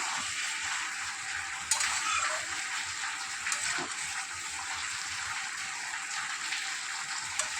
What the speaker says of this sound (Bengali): চিংড়ি মাছটা এর সাথে একটু কষিয়ে নেব।